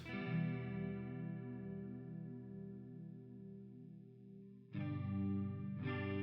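A sustained electric guitar chord with a chorus effect rings with a shimmering, wavering tone, fading slowly before two fresh strums ring out again.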